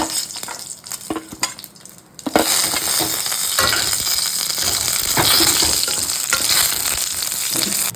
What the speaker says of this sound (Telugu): అదే వాండిలో ఎండుమిరపకాయలు, 2 ఇలాచి, దాల్చిన చెక్క, పెప్పర్, మసాలా లీఫ్ ఇదంతా ఫ్రై చేసుకోవాలి